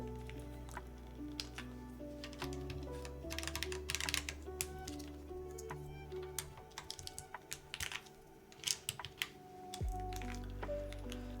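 Rapid typing on a loud tenkeyless mechanical keyboard with a new keycap set, a steady run of close, sharp clacks with bursts of faster strokes, over a low background hum.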